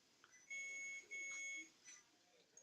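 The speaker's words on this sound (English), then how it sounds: "we can keep hearing some phone call that's ringing" A phone rings in a hospital resuscitation setting, giving two sustained electronic tones a short gap apart, fairly faint against a quiet room background.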